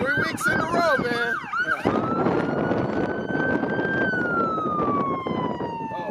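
An emergency vehicle siren passes, first a rapid warbling yelp, then a long wail that rises and slowly falls, loud and close over traffic rumble, with no talking.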